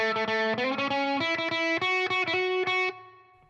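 Distorted electric guitar picks out a chorus melody, bright short repeated notes in a steady rhythm, ending on a held note that fades.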